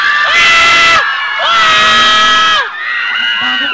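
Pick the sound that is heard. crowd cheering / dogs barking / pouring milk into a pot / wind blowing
crowd cheering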